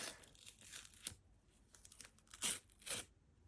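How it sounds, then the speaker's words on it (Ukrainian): A paper surprise packet tears in several short rips with crinkling between them, close and fairly quiet, no speech. "Давайте відкриємо наш пакетик."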